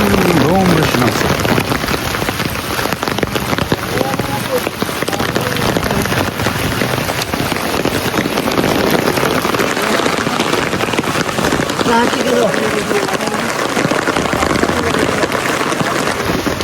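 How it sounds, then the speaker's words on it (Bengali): Heavy rain falls steadily on a market area during a flood, making a loud, dense wash of drops and splatter that lasts throughout, with faint voices mixed into the downpour. "বৃষ্টি নামছে।"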